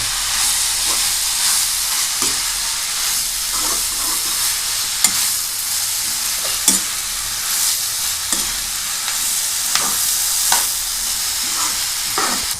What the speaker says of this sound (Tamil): இப்போ அடுத்தது நம்ம பீக்கங்காயையும் ஆட் பண்ணிடலாம் நல்லா பீக்கங்காவையும் நல்லா வதக்கிடுங்க